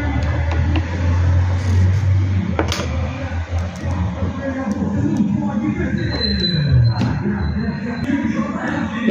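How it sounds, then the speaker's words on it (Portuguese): Loudspeaker cars pass along a street, their amplified voices blaring over rumbling traffic and engine noise. "Os carros de som aqui estão na cidade de vocês."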